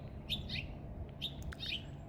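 Yard birds at feeders and bird baths give bright, short chirps in two quick pairs over a steady outdoor background hum.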